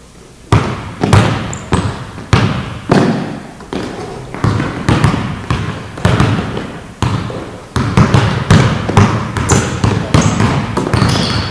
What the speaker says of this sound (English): I just want you guys to get low, chop the feet, and explode forward, pushing the ball out.